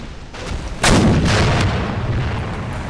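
A tank cannon fires at a Chinese vehicle in a Sino-Vietnamese War 1979 game mod, one loud booming blast with a rumbling tail over steady battlefield noise.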